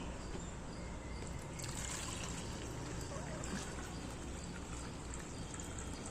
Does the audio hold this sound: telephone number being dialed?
no